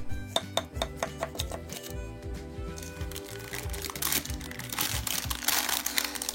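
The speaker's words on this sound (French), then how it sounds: "On va se découper une part pour voir l'intérieur." A knife cuts into a freshly baked blondie with chocolate chips, making repeated close crinkly, crunchy scrapes and knocks against a pan or plate, continuing steadily without talk.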